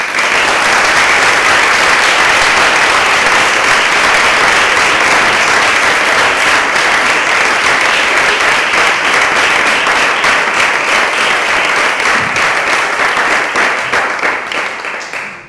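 An audience gives sustained, loud, dense applause at a children's council session, clapping steadily for about fifteen seconds before it begins to fade at the end.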